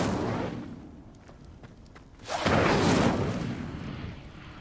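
A fire spell, Incendio, is cast in a Harry Potter video game, giving a loud, roaring whoosh that swells after a quieter start and then fades slowly.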